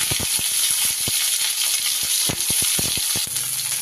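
Cauliflower pieces sizzle as they hit hot oil in a pan, a loud continuous frying hiss broken by scattered pops and spatters, heard close and alone.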